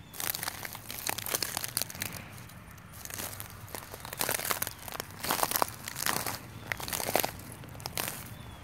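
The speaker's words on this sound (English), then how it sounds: "I'm sure that's really loud crunching on the" Footsteps crunch through garden mulch in an irregular walking rhythm, close to the microphone, with crinkly crackles and no talking.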